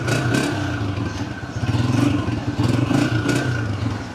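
A Honda 125 motorcycle engine idles steadily nearby, a low rhythmic putter with a faint mechanical rattle, no voices.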